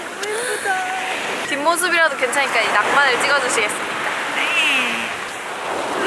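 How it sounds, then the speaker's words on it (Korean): Surf washing onto the beach at Haeundae at sunset, a steady broadband wash heard close by throughout, with people chatting over it for much of the time. "바다 소리를 들려드릴게요."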